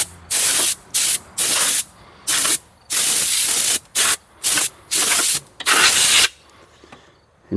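Compressed air blasts dust off a 1981 John Deere snowmobile near the carburetor and cooling fins, in about ten loud, close bursts of varying length separated by brief silences.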